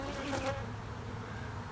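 Honeybees buzzing around an overcrowded observation hive in a garden, a steady, low continuous drone of many wings at moderate distance, faint and even throughout with no voices.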